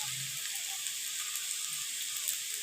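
Finely chopped garlic dropped into hot oil in a pan, a steady close hiss of sizzling and frying with faint crackles throughout.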